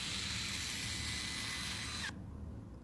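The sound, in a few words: motor of rollable smartphone unrolling, with sound off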